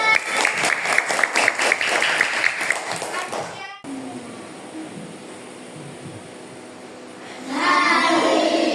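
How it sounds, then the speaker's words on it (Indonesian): A classroom of children claps in brief, uneven bursts for a few seconds after a correct answer, then a quieter stretch of room noise before the clapping picks up again near the end. "Ya, betul, tepuk tangan."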